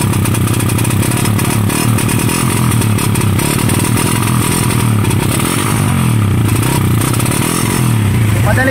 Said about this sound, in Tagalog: Para daw naka-rapid backfire, ayaw humatak. Ayan ang tunog oh,